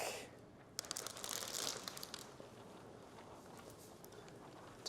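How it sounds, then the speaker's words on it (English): Window tint film being peeled back from one corner of its clear backing liner on a roll-down car window, a soft close crinkling and crackling that swells briefly then settles into a faint steady rustle. "So we're going to grab one corner of the tint, peeling it back,"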